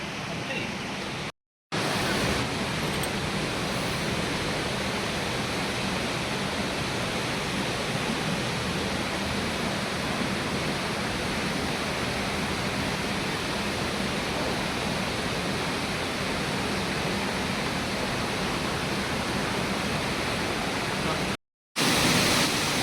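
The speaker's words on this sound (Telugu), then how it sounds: "మనం ఇప్పుడు అది అత్రిముని వాటర్ ఫాల్స్" Atri Muni waterfall on the trek to Anasuya Matha temple roars as a steady, dense rush of falling water, loud and continuous throughout, with only brief breaks near the start and end.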